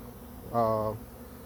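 One swarming honey bee buzzes close past for under half a second, a tonal hum rising briefly over a faint background.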